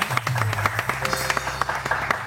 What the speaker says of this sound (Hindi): सो अब ये इसके लिए तालियां होनी चाहिए